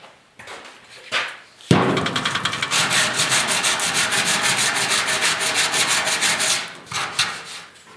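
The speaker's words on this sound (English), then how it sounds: "See how it sands." Hand-sanding the metal bed of a 1969 Ford Bronco, heard as loud, close, rhythmic rasping strokes that run steadily for several seconds after a few lighter scrapes and a knock.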